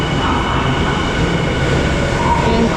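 Tokyo subway train rumbles steadily at a station platform, a loud continuous roar of wheels and carriages with faint squealing tones near the end.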